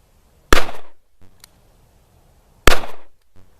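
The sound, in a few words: gunshots from a Smith & Wesson Model 637 .38 revolver, single action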